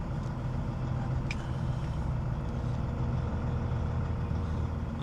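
A truck engine idles and rumbles low and steady while parking at a depot, a continuous close drone with a couple of faint clicks, no talk.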